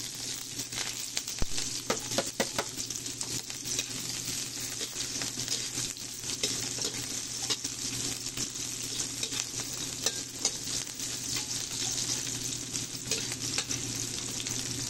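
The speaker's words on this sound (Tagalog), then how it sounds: "igigisa ko muna tong sibuyas, bawang, at saka tanglad" Onion, garlic and lemongrass sauté in a pan for chicken inasal, a steady crackling sizzle running throughout with intermittent scrapes and clicks of a spatula stirring.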